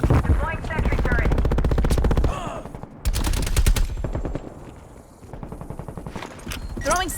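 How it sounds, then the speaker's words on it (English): An automated sentry turret in a video game fires long, rapid bursts of gunfire with short pauses between them, loud and close, with a game voice calling out over the shooting. "Deploying sentry turret."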